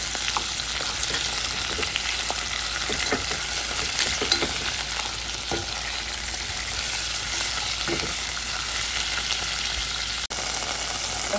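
Minced meat sizzles and fries steadily in a pan, a dense continuous crackle close up with occasional stirring scrapes and no talking.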